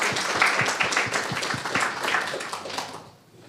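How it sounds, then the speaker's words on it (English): Audience applause at an academic event on interdisciplinarity in digital technology research: a crowd's dense clapping rings out steadily, then thins and fades away toward the end. "they deserve the first round of applause"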